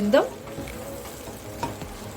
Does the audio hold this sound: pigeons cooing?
no